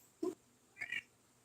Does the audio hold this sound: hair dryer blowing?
no